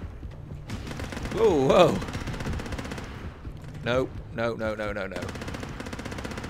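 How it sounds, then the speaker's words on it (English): Bursts of machine-gun fire come from the underwater shooter game Depth, several rapid volleys loud in front, with a person exclaiming over them. "Oh, I forgot I got more ammo for my awesome machine gun."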